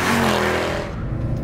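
A Mercedes-Benz C63 AMG estate with a 6.2-litre V8 drives on the road, its engine note loud and close, a throaty roar that shifts in pitch as it accelerates and then eases.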